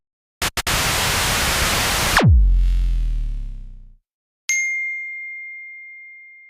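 A burst of loud static cuts off into a descending whoosh, then after a short silence a single bright bell ding rings out and sustains.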